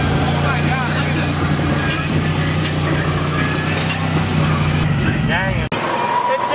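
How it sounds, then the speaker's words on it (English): An LS V8-powered BMW with mismatched tire sizes does a burnout: a steady, loud engine drone with broad tire roar throughout, cut off sharply near the end, while people talk over it. "It's doing a straight burnout because the tires are different sizes."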